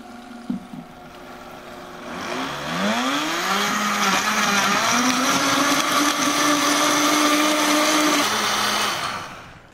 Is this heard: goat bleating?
no